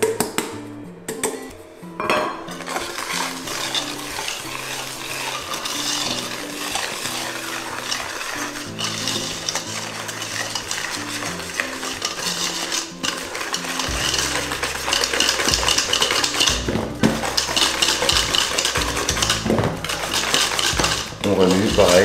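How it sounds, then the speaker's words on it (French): Flan batter of eggs, sugar, flour and cornstarch whisked in a bowl, rapid metallic clinking and scraping that runs continuously at close range, with a voice speaking briefly at times. "On remue pareil pour éviter les morceaux"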